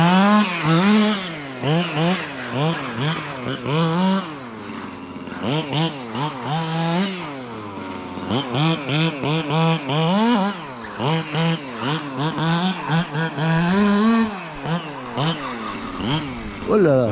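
A 1/6-scale petrol-powered FG Marder RC buggy engine revs loudly and continuously, its whine rising and falling in pitch through repeated bursts of acceleration, with the buggy close by and no talk over it.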